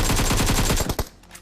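A rapid burst of automatic gunfire from the video game BGMI, about a dozen loud shots in quick succession, ends in a sharp final crack followed by a fading tail.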